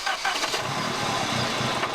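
A Saab 900 Turbo engine running at a steady idle with a rattle, a continuous close mechanical drone with a busy, textured upper layer and no talk over it.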